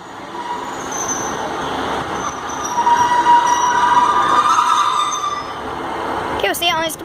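A Great Western Railway diesel train running into Exeter Central station on the Exmouth service, a steady rumble with a squeal of wheels on the rails in the middle, close and loud.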